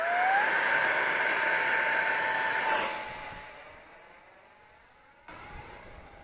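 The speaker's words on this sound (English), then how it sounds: "Got it in the air. That was full throttle." An Eachine F16 50mm EDF RC jet on a 4S LiPo screams past at full throttle. A loud, high-pitched ducted-fan whine shifts in pitch as it flies by, then fades into the distance.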